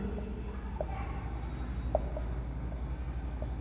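Chalk or marker writing an energy diagram on a board, faint scratchy strokes with a few light taps, steady under a low room hum and without speech.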